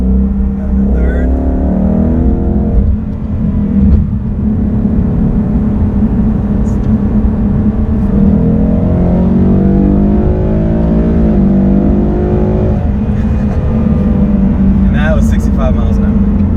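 A 2019 Ford Mustang GT with a 10-speed automatic gearbox and paddle shifters accelerates and shifts gears. Its engine drone rises and falls in pitch under steady talking from inside the car.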